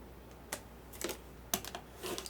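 Scissors snip through the folded tip of a piece of fabric, a few sharp clipping sounds spaced apart, close and fairly quiet with no talking.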